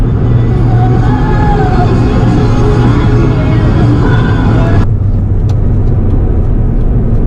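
A 1992 Toyota Sera's engine drones loudly and continuously in sport mode, a low steady rumble that turns duller and quieter partway through.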